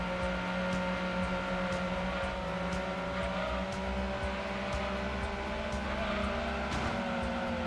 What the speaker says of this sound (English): So I gotta really make sure I rev out the engine just a little bit.